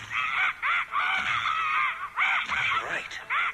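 A stage character at a live Mighty Morphin Power Rangers World Tour show imitates bird calls with the voice, loud shrill squawks and tweets in quick repeated bursts.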